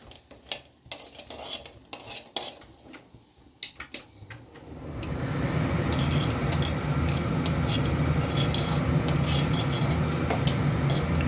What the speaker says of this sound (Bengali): লাল লাল করে ভাজা হচ্ছে